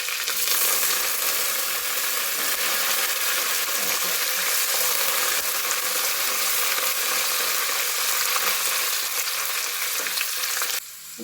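Green chilies and curry leaves fry in hot oil with mustard seeds and cumin, a dense, loud, steady sizzle with occasional light stirring clicks, close up, easing off just at the end.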